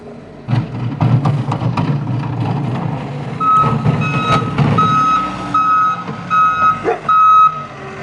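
A milk truck backing up gives off steady, evenly spaced reversing beeps over its rumbling engine, loud and close for most of the clip.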